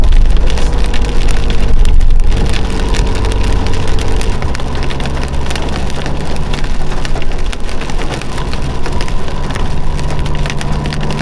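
Heavy rain pours down in a pine forest along a mountain road near Manali, a loud, steady, dense wash of drops and patter with no pauses, close and enveloping.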